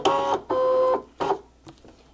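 A cutting mat is fed into a stencil cutting machine, with motorized whirring bursts, two short and one longer, followed by a brief fainter mechanical sound, close and fairly loud with no talk.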